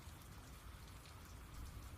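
Soft rain falls steadily in an even, dense hiss with faint patter, continuous and gentle, with no voices.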